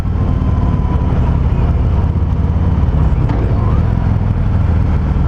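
A 2019 Harley-Davidson Fat Boy's engine rumbles steadily and loud while riding, a continuous low throb mixed with wind rush for the whole stretch.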